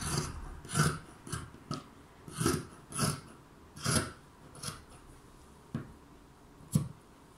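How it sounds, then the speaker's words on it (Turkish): Fabric being cut for a pencil skirt with a one-centimetre seam allowance, heard as a series of close, rhythmic rasping snips, roughly ten distinct cuts spaced about half a second apart with no voices. "Şimdi ben 1 santim dikiş payı vererek kalem eteğimi kesiyorum."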